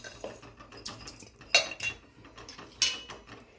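A spoon stirs sugar into milk in a metal plate, giving repeated scraping clinks against the metal in an uneven rhythm, with two sharper bright rings standing out, close-up and alone with no talking.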